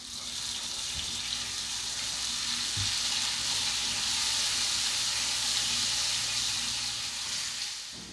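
Cubed tofu frying in a pan with a splash of soy sauce, giving a steady, close, bright sizzle that holds throughout with a couple of faint clunks underneath.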